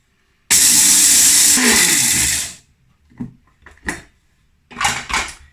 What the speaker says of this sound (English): So I'm just gonna put them in my spice grinder and slightly grind them up.